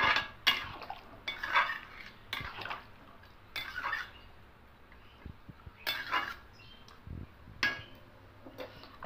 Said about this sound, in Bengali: গরম জলটা দিয়ে দেবো। খুব ভালো করে মিশিয়ে নেব।